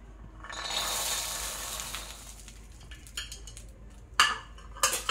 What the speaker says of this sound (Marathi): आता आपल्याला हे वाटाणे आहे ना, हे भाजून घ्यायचे आहे।